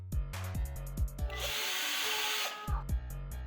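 A power drill drives screws into a wooden corner support piece, with short revving bursts and then a longer sustained whine as a screw bites into the wood, followed by more quick trigger pulses.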